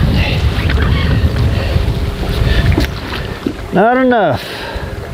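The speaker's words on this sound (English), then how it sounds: "That wind is really picking up." Gusty wind on Lake of the Ozarks roars across the microphone with a steady low rumble during dock fishing for crappie, and someone speaks briefly over it near the end.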